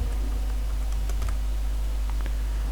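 Computer keys are pressed with a few light, separate clicks and taps, one small cluster and then a couple more, heard close over a steady low hum while someone works in an Excel spreadsheet.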